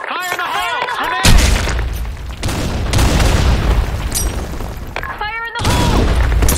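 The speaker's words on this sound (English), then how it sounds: "Fire in the hole! Grenade!" A grenade goes off in the Blackshot shooter game with two heavy booming blasts and long rumbling tails, while game voices call out between them.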